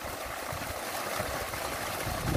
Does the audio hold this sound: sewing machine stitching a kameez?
no